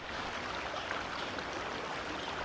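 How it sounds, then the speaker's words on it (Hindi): A waterfall in the video game Crimson Desert gives a steady, soft broadband rush of falling water, continuous and fairly faint, with no voices. "ये वाटरफॉल कितना ब्यूटीफुल लग रहा है ना।"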